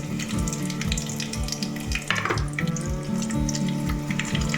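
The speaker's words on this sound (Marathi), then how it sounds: "आणि तेल थोडस गरम व्हायला द्यायचं त्याच्यानंतर मग लसूण टाकते" Garlic sizzling in hot oil for a Konkani fish dish, a loud steady crackle and hiss with repeated low clunks in a regular rhythm, no talking.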